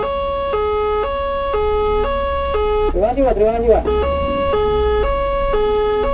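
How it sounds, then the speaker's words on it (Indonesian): A loud, nearby ambulance siren in Indonesia cycles through a steady two-tone wail while someone speaks briefly over it midway. "kasih jalan ambulan dulu Pak, mohon izin Pak"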